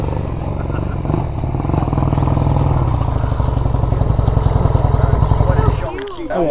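A Honda Rebel 250 motorcycle engine revs hard and close, a loud, steady rumbling drone that holds for several seconds before cutting off abruptly near the end, with voices talking underneath.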